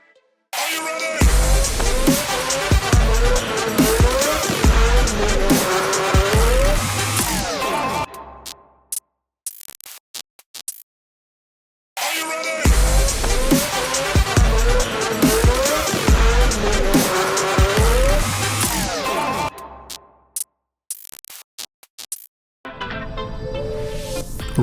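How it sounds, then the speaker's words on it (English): A race car laps the Zwartkops circuit in two loud, close passes. Each is a high engine roar that climbs through the gears, then drops away with a falling whine, and short quiet gaps sit between the passes. "We've got Fanie De Villiers making his way out into the circuit for the very first time."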